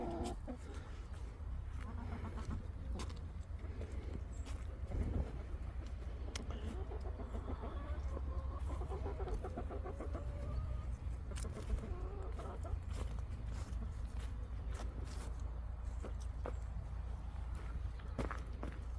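Chickens cluck in a hen house, with soft scattered bird calls heard among footsteps and a low steady hum, fairly quiet and spread across the whole stretch.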